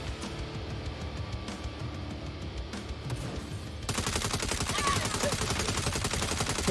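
Gunfire in the Saints Row video game during a car chase with cops, rapid automatic bursts that grow louder and denser partway through, layered over engine and game noise.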